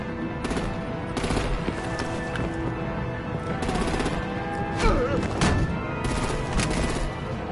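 Gunfire and artillery ring out in a Batman Telltale video game battle, with dense bursts of rapid shots and heavy blasts over a continuous roar, and a few voices shouting amid the fighting.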